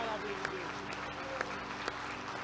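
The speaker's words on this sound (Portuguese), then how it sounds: "Aplauda Jesus bem forte nessa noite, irmãos" A church congregation claps during an evening worship service, steady massed clapping with a faint rhythmic pulse beneath, while a voice and sustained musical tones run underneath.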